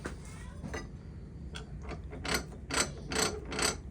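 Clicking ratchet-like turns of a bench vise being tightened to clamp a custom knife blade, a series of close, crisp mechanical clicks growing more pronounced toward the end, with no speech.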